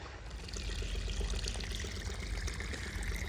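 Water flows into a spinach field in rural Punjab like a running tubewell, a steady close splashing pour and trickle that holds evenly throughout with no voices.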